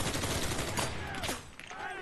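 A machine gun with a 100-round drum fires continuously in Enlisted in the Hurtgen Forest, a dense unbroken fusillade of rapid shots with other battle noise mixed in.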